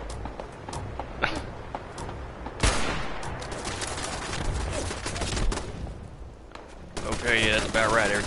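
Gunfire in the online shooter Fallout 76, several loud sharp bursts and single shots in quick succession over a busy game soundscape, with someone talking in between.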